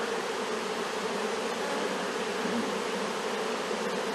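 A honey bee swarm being installed into a hive gives off a dense, steady buzzing hum, loud and close, constant with no pauses.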